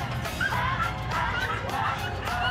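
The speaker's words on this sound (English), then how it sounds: "I had to come over here and take a break from all the barking dogs." Several dogs barking and yipping at a Humane Society pet adoption event, overlapping barks in a busy, noisy indoor crowd.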